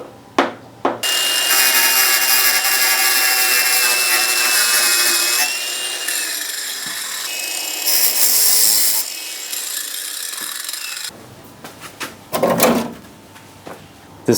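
A power cutting tool trims a car body panel cutout in a long, loud, high whining run. It stops and starts with brief pauses, and short scraping bursts and knocks follow near the end.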